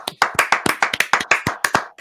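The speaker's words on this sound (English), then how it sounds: "Let's give a round of applause to Steve Cohen." A few hands clap in quick, distinct, uneven bursts close to the microphone on a podcast, a small informal round of claps rather than a crowd, with no talking over it.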